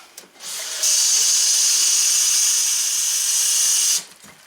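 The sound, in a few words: tap water filling container from sink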